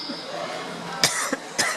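Three sharp coughs at close range, the first strongest and the last two spaced apart, over a steady background hum.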